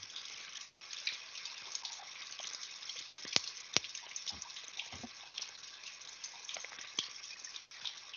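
Water runs from a faucet in a steady, faint rushing stream, continuous throughout with a few small clicks and knocks.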